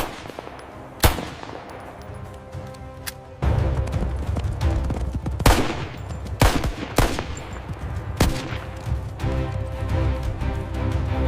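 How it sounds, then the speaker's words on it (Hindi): Sharp gunshots crack out irregularly at target practice on a stone, several single shots spread across a busy background of rumbling noise and scattered impacts. "उस पत्थर को अपना दुश्मन समझकर गोली चलाओ"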